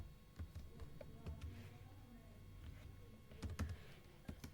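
Computer keyboard typing a Python variable name: scattered quick key clicks, some doubled, fairly faint and close, with no talk over them.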